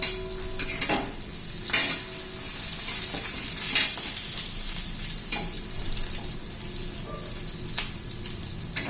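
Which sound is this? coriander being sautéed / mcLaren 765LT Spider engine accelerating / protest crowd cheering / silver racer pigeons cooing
coriander being sautéed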